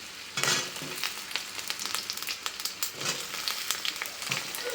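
Capsicum and onions fry in a pan, giving a busy crackling sizzle with frequent stirring scrapes and small pops throughout, close and fairly loud.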